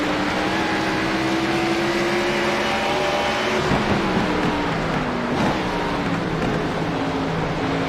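Race car engine in a sim racing game of production cars and stock cars, droning loud and steady as it climbs up Mountain Straight, with a brief dip midway as it shifts up through the gears.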